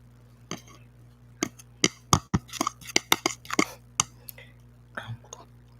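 Soft spoon scrapes, clicks and moist chewing from ice cream eaten out of a plastic cup, a string of close, quiet taps and mouth sounds spread unevenly through a hushed room with a low steady hum beneath.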